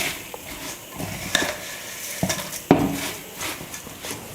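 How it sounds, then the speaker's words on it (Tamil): Puffed rice mixed with hot sugar syrup using a ladle, soft scraping and rustling from the stirring, broken by a few sharp metallic clinks of the ladle against the vessel. "கரண்டி வச்சு நல்லா பொரியோடு கலந்து கொடுங்க."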